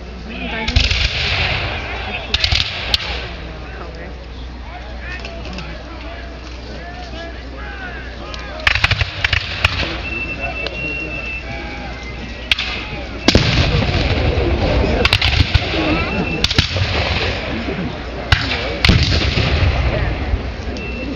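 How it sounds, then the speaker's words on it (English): Cannons of the Redan battery fire during a re-enactment of the Battle of Queenston Heights. Several heavy booms land at irregular intervals over a rumbling outdoor background, with a voice talking between the shots. "So the guns up on the Redan battery are giving fire again."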